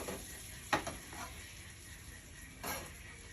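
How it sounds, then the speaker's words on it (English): Quiet, steady sizzle of food frying in hot oil, with a couple of brief clinks of a utensil against the pan. "That's sizzling away just beautifully."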